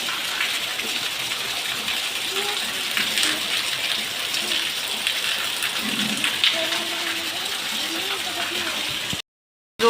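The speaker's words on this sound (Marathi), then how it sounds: "तर इथं जोरदार पावसाला सुरुवात झाली पाहू शकता इतका जोरात पाऊस पडतो" Heavy rain pouring down in hilly countryside, a loud, dense, steady hiss close by, with someone speaking faintly beneath it before a sudden cut to silence near the end.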